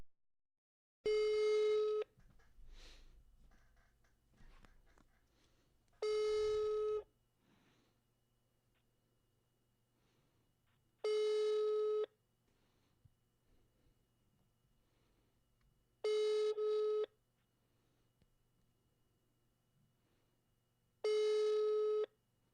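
Five evenly spaced ringback tones of a phone call, each about a second long with quiet gaps of roughly four seconds between them, clean and moderately loud, with no voice answering.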